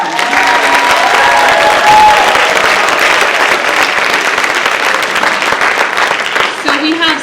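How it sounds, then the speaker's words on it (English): An audience at a school percussion concert applauds a fifth grade percussion ensemble with loud, sustained clapping and some crowd noise, lasting several seconds before tapering off, with voices mixed in. "Can you give them a round of applause?"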